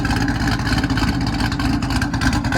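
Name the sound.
sports car exhaust revving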